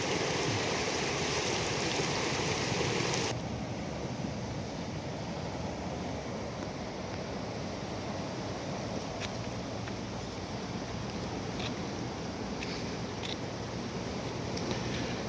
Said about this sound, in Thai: น้ำไหลนะนะ ยังไม่จบนะครับ ไหลตามโค้งแบบนี้นะ